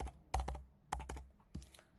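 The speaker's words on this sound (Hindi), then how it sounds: "वही नंबर हम यहाँ पे टाइप करेंगे" Keys on a computer keyboard tapped to enter a mobile number, close and fairly quiet, in short clustered bursts of two or three keystrokes separated by brief pauses, with no talking.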